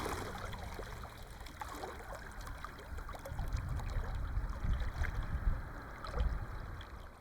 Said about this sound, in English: Just by sitting here listening to this calm water, it really, really relaxes me.